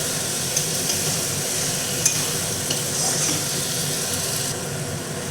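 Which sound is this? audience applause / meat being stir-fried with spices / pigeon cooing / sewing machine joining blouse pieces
meat being stir-fried with spices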